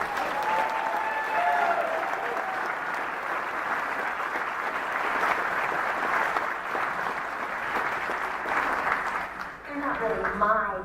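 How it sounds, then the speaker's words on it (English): Concert crowd at a folk show in Spokane applauds the band, a dense continuous wash of clapping with faint voices and cheers mixed in, thinning briefly near the end as talk resumes. "How about a nice round of applause for my band?"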